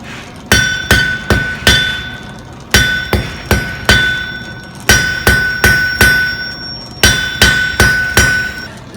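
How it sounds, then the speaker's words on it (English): A hammer strikes red-hot metal at a forge, drawing out the stock into a squared piece. The blows are loud, ringing and close, falling in quick groups of three or four separated by short pauses. No one speaks. "I'm hammering and kind of pushing the metal at the same time, turning it 90 degrees and doing that same thing so that I get a squared out piece"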